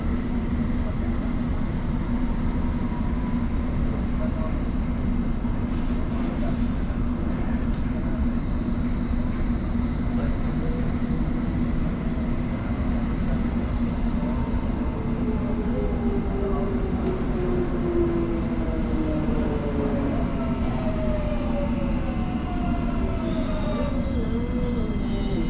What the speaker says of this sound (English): This is an all-station Metropolitan line train to Uxbridge.